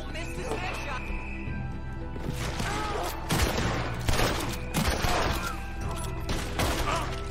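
Gunfire in the video game Red Dead Redemption II: several loud shots burst out over the middle seconds amid game noise, with someone talking excitedly throughout.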